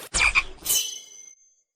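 A single loud frog croak from an animal-sound-imitating toy gun, a short raspy call in two quick pulses followed by a ringing tail, then silence.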